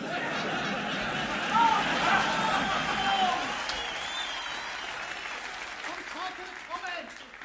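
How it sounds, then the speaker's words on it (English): Applause during a live stream, a burst of crowd clapping with some cheering and chatter that swells early and then gradually fades toward the end. "Applause! Applause!"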